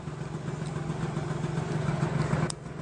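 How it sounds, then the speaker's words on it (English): A motorcycle taxi engine idles with a steady low putter, close by, in Athens, Greece, with light background noise and a brief click near the end. "A new and better way to get around is with a motorcycle taxi"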